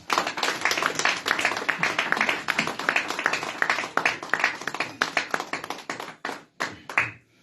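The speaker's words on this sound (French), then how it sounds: "Est-ce que nous pouvons acclamer le Seigneur?" A church congregation claps in a fast, steady rhythm, dense and close, the beat briefly breaking near the end before a final few claps.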